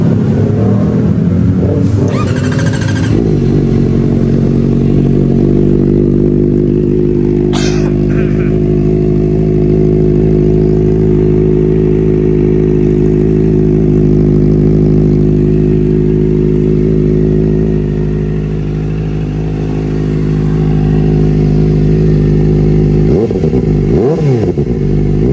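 Kawasaki ZX-4RR motorcycle fitted with a mid link and an aftermarket canister exhaust, revving loudly up and then holding a steady high-pitched engine note close by for a long stretch before dropping back.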